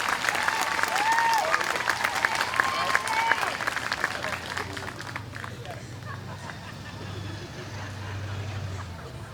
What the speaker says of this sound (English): at this time, a big round of applause for our MCs, Sam, Allie, Cece, and Anthony.